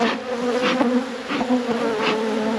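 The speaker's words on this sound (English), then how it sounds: "Plenty of bees packed in this hive." Honeybees buzz steadily in a packed hive, a dense continuous drone with a few louder swells as individual bees pass close by.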